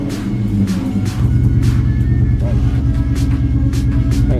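A 2003 Ford Mustang Cobra engine cranks and catches about a second in, then settles into a steady, loud, close idle rumble.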